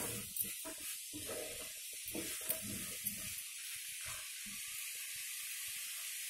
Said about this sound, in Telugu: బాగా మసాలా పట్టే వరకు ఒక 2 మినిట్స్ బాగా వేయించుకోవాలి